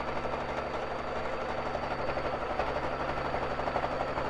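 A Baby Lock Jazz II sewing machine runs continuously on a quilting frame during free motion quilting, a steady, fast rattling hum of the needle mechanism close up and without pause.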